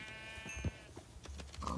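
A sheep in a petting zoo video game lets out a drawn, wavering bleat, fairly faint, followed by a few soft knocks and background game sounds.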